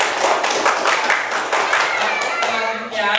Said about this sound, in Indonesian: Tepuk tangan buat Delisa.